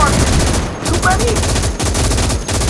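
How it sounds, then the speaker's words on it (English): Loud, close machine gun fire in the World War II video game Gates of Hell, firing in rapid sustained bursts with only brief breaks, with battle noise underneath. "I'm gonna need your MG spinning"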